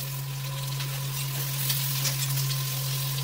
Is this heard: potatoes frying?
yes